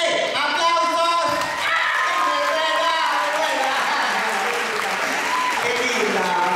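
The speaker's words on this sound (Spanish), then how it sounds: "¡Aplausos!" Theatre audience at the ND Ateneo in Buenos Aires breaking into loud, sustained applause, dense clapping with cheers and voices mixed in throughout.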